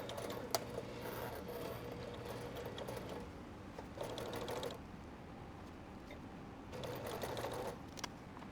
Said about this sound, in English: Sew it in place in that position